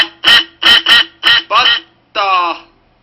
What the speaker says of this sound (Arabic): صوت البطة.